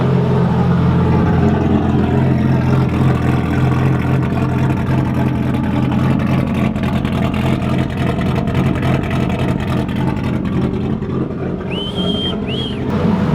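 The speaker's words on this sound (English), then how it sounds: "I'll give you a listen to how this thing actually sounds at idle though" Nissan RB25DET engine idling in a GU Patrol with choppy cams, a loud, lumpy, uneven idle rumble held steadily up close, with a brief high belt squeal near the end.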